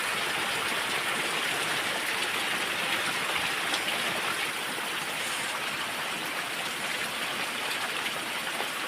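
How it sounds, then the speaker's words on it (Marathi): Steady, dense rainfall hisses continuously and loudly, a heavy downpour with no pauses and no voices. "जाम पाऊस पडतो"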